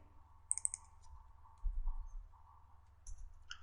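Sharp, close clicks of computer keyboard keys, including the Enter key, in a quiet room: a quick pair early on, then a few more isolated taps near the end.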